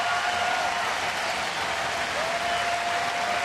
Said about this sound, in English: A very deserving round of applause right there.